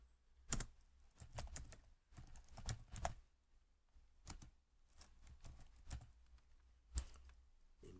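Computer keyboard being typed on to edit text in an HTML table, giving faint, close, irregular clusters of key clicks with short gaps between bursts.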